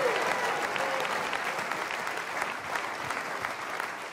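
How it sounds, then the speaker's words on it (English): A church congregation at a night revival service claps and cheers, producing sustained, dense applause with crowd shouts mixed in that fade slightly over a few seconds. "clap your hands one more time and give God a mighty shout of praise."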